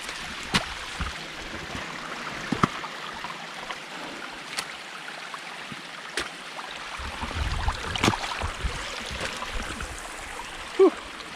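Steady rushing water of a waterfall fills the clip, with scattered splashes and clunks of someone climbing up it nearby and a brief rustle near the end.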